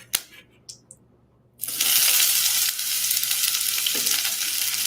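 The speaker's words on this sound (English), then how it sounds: "I'm going to saute them very briefly, only about 15 to 20 seconds." Onions and garlic hit hot oil in a pan during a cooking class: after a few quiet clinks, a loud sudden sizzle bursts in and holds as a steady, close hiss for several seconds.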